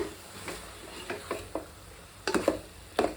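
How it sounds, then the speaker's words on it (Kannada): Vangi bath masala powder and paste are stirred in hot oil with a spoon, giving scraping strokes against the pan over a soft, steady sizzle, with a few sharper clinks near the end. "1-2 ನಿಮಿಷ ಎಣ್ಣೆಯಲ್ಲಿ ಈ ಥರ ತಿರ್ವಾಕಿದ್ರೆ ಸಾಕು"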